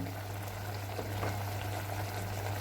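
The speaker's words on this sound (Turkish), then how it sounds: "Şimdi suyu kesilinceye kadar kaynasın." Chicken liver bubbles in a pan as its juices cook down, a steady soft simmering hiss with a low hum beneath and no voices.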